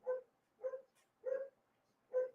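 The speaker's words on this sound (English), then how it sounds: "Here, my dog barking." A dog barks four times in an even, spaced rhythm, each bark short and clear against a quiet room, with no talking over it.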